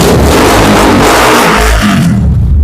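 A YCR Super Sports motorcycle engine roars loudly and close, revving steadily for a couple of seconds before easing off, with no talking over it.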